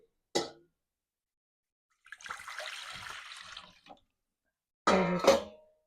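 Water poured from a glass into a mixture for homemade paneer made from milk powder: a steady splashing pour lasting about two seconds, set between brief clattering knocks, close and fairly quiet.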